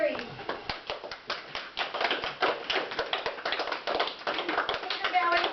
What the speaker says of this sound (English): Peter pleads with the audience to save Tinkerbell's life by clapping to show that they believe in fairies